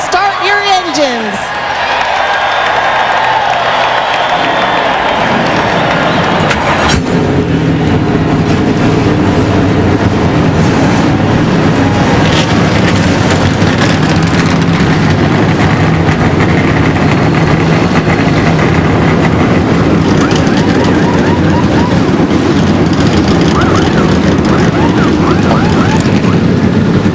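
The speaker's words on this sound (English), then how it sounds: "Drivers, start your engines." NASCAR stock car engines at Bristol for the 2002 Sharpie 500 fire up together into a loud, dense roar that builds after a few seconds and holds steady, with a voice talking over the start.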